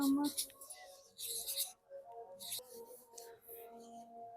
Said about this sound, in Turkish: Burçin yazıyorum